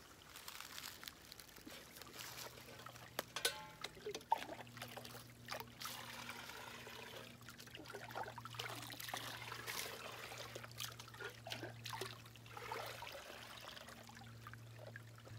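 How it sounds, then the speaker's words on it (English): Water trickles and drips steadily from a soaked filter bag hung up outdoors as a catchment device, a faint continuous dribble with small splashes, no talking heard. "You can see it's already leaking water."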